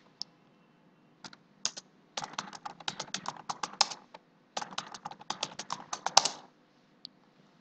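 A password is typed on a computer keyboard during server setup, giving quick bursts of light key clicks in two runs broken by a short pause and closing with a single final tap, close and fairly quiet.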